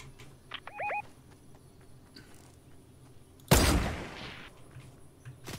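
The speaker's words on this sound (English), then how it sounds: "Someone's shooting." A loud gunshot blast in a Fortnite match hits suddenly and rings out in a decaying tail, after faint earlier pops and quick chirping tones in the game.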